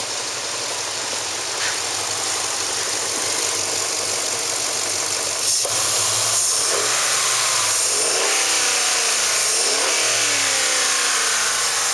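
A 2000 Dodge Durango SLT with the 4.7 V8, automatic and four-wheel drive, 201,815 miles, runs steadily up close, its engine rising and falling through several revs over a constant idle, with no talk.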